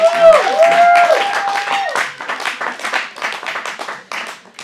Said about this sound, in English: That's when they're supposed to clap.